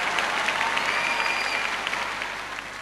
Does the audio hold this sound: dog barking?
no